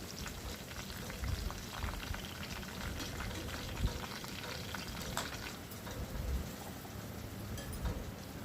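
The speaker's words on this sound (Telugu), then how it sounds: "ఉల్లిపాయలు కూడా వేసేసుకున్నానండి బాగా వేగాలి" Three large onions frying in a pan for mutton keema make a soft, continuous sizzle with scattered light pops, fairly quiet and steady throughout.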